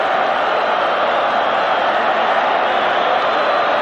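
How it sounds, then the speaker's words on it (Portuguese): Football crowd roars and chants continuously for Flamengo in a stadium at a Libertadores match against Atlético Mineiro, a dense, unbroken wall of massed voices with no pauses. "Torcida gritando"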